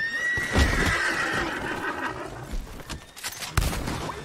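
A horse whinnies in the Western game Red Dead Online, a strained cry near the start fading over a dense, noisy game background with scattered thumps.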